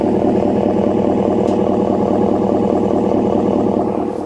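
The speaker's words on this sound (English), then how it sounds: "Even the idle sounds good." A deep, steady V8 idle from a 5.7 HEMI RAM truck with a Thermal R&D Savage cat-back exhaust, a low throbbing rumble, continuous and close, no voices.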